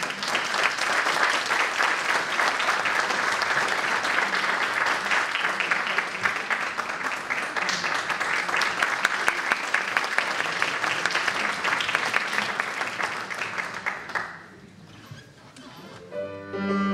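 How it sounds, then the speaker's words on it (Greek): Audience at a Christmas concert claps in sustained, dense applause for about fourteen seconds before it quickly fades, leaving a quiet room with faint scattered sounds. "Το θερμό σας χειροκρότημα."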